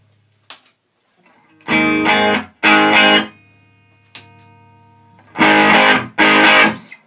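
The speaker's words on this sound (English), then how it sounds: "It's an overdrive pedal." Electric guitar through an overdrive pedal, chords strummed in short, loud, gritty bursts, separated by brief pauses and a lingering sustained note, with no voices.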